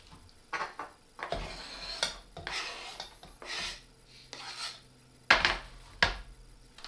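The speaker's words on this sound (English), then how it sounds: "Is there a trick to cutting onions like super fast without crying?" A knife slices onions on a cutting board in a home kitchen, with scattered close rasping strokes and soft thuds, then two crisp chops near the end, quiet and with no talking.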